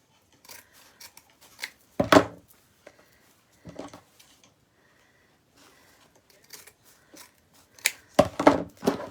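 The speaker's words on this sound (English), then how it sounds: "just cutting along the seam" Scissors cutting along the seam of ribbon or fabric for a pancake wreath: sparse, close snips and rustling bursts separated by quiet gaps, strongest at the start and end.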